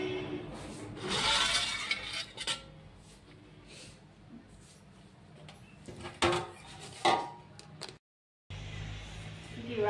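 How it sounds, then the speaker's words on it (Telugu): Onions being cut with a knife in a home kitchen while cooking curry, with scattered irregular knife taps and scraping on a board, some louder clatters, a brief silent gap, and faint background noise. "ఇప్పుడే ఇంకా ఉల్లిగడ్డలు అయితే కట్ చేస్తున్నా"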